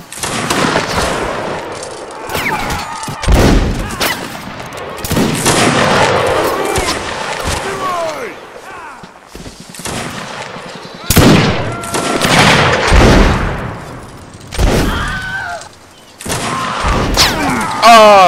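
Napoleonic-era musket fire in Mount&Blade Warband: Napoleonic Wars, with loud, close booming shots and crackling volleys that repeat irregularly throughout a long firefight, broken by short lulls, with shouting voices mixed in.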